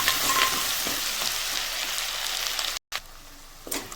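Ginger garlic paste and curry leaves fry hard in hot oil in a pan, giving a loud, dense, continuous sizzle close by that drops out for an instant and then returns.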